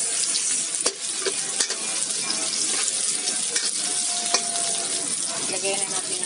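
Garlic and onion sauté in a hot pan for a chicken dish, a loud, continuous sizzle with occasional scrapes of stirring, close and steady with no talking.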